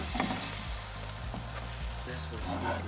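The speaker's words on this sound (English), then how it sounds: "while I'm over here cooking up a breakfast for gods" Breakfast fries in a pan over a camp stove on a camping weekend near Coffs Harbour, a steady close sizzle with occasional scrapes and stirring clatter under faint background voices.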